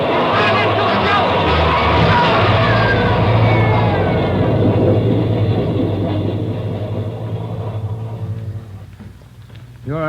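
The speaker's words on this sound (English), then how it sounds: "There's a train coming through." A train roars loudly through a tunnel, a dense rumbling rush with screeching tones and shouting voices over it, fading toward the end, in a 1949 radio drama.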